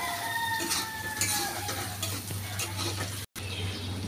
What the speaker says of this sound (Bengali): এই যে এবার আমি আবার একটু এগুলো শুকনো মশলাগুলো কষিয়ে নেব ভালো করে।